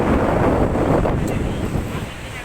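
Strong surf at Lhoknga beach in wind and rain, a loud rushing wash of waves under heavy wind buffeting on the microphone, briefly swelling and then easing.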